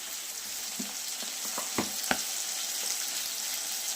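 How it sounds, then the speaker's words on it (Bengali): Ingredients for Bengali fish kalia frying in hot oil to soften, a steady close sizzle with a few sharp clicks and taps from a utensil midway. "আমি তেলের উপরে এইগুলো নরম করে নেব"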